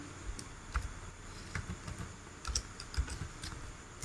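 Irregular clicks and taps of fingers typing on a computer keyboard, soft and close, with a few sharper keystrokes against a quiet background.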